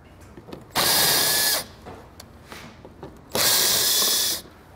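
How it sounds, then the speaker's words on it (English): A power drill removes fasteners by the tire while installing a Roadmaster crossbar-style base plate kit on a 2020 Buick Envision, with two loud sustained whirring bursts close by and quiet clicks between them. "we'll head over to the other side and remove those same fasteners over there"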